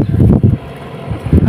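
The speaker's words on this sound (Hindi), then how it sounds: "देखा हवा चल रही।" Wind gusts outdoors during an Eid day out, heard as low buffeting rumbles against the microphone that come and go in uneven bursts.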